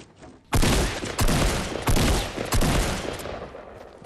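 Video game gunfire in Fortnite: four loud, sharp bursts of shots roughly half a second to a second apart, each with a ringing decay, over quieter background sound.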